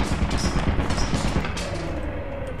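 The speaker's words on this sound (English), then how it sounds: "Oh, and a turret." Turret in the video game Lethal Company firing a dense, continuous stream of rapid shots, loud and close, a steady mechanical rattle filling the whole stretch without a pause.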